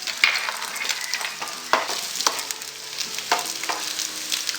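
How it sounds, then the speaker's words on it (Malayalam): Cashews and raisins frying in ghee for bread chattipathiri, a quiet close crackle and sizzle with scattered sharp pops and light scrapes of a spoon in the pan, no speech. "2 ടേബിൾ സ്പൂൺ ഉണക്കമുന്തിരിയും കൂടെ ചേർത്ത് മൂപ്പിക്കാം."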